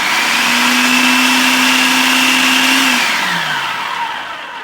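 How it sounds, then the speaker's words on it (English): A food processor loudly whirs through about two pounds of tomatillos and eight garlic cloves, a steady motor drone that runs for several seconds before spinning down and fading. "We're gonna blend this or process this."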